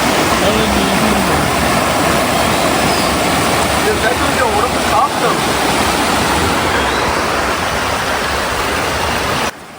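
Strongly flowing water rushes loudly and steadily at an outdoor spot used for sand bathing, a dense close roar that fills the whole stretch and cuts off at the end.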